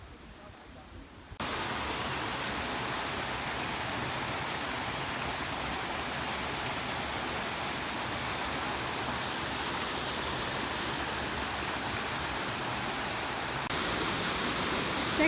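Allerheiligen waterfall in the Black Forest, a steady, loud broadband rush of falling water that starts abruptly after a quieter moment and continues unbroken, close and dominant.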